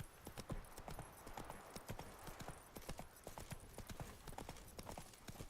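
A horse ridden in the Witcher 3: Wild Hunt video game clip-clops along at a steady trot, hoofbeats even and rhythmic, with a faint voice now and then in the background.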